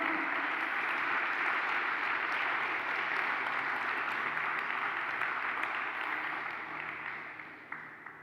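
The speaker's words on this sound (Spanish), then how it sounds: "Dele un fuerte aplauso al Señor por ese testimonio" A large church congregation applauds steadily and loudly, a dense roar of clapping that holds throughout before easing off slightly near the end.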